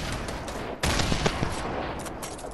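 Rapid gunfire in the video game Fortnite during a squad fight, a brief lull followed by a loud sudden burst of overlapping shots and grenade launcher fire that stays dense to the end.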